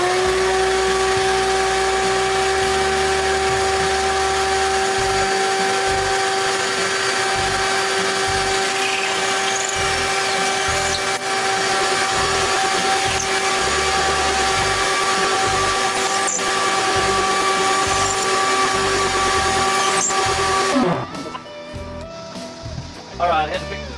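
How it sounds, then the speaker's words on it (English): A power drill drives pocket holes into the side of a birch cabinet panel, its motor whining at a steady pitch for about twenty seconds before cutting off abruptly near the end. "I'm putting some pocket holes down the side of this panel"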